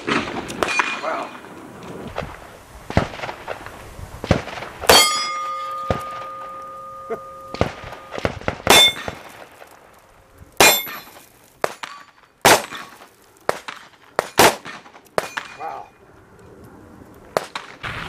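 Shots from a Taurus M605 Poly .357 Magnum revolver ring on steel targets outdoors: a series of sharp, loud cracks and metallic clangs spaced irregularly across the stretch, some with lingering ring, with a brief voice between.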